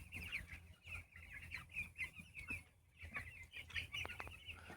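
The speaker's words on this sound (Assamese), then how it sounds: "যেহেতু বহুত গৰম, মুৰ্গী চাওক কেনে ফেফাই আছে" Broiler chickens about thirteen days old cluck and chatter in a hot shed, a continuous flock murmur with repeated nearby clucks at moderate, fairly faint level, no talk.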